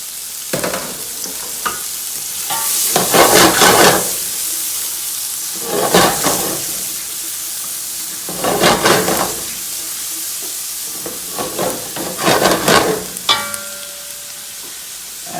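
Mushrooms and onions stir-fry in a hot pan for pork fried rice: a steady sizzle broken by several loud bursts of scraping and tossing, close and fairly loud, with no one talking.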